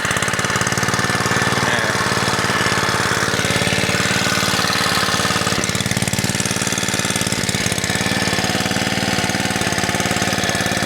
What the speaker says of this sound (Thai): เดี๋ยวเราดับเครื่องยนต์ก่อน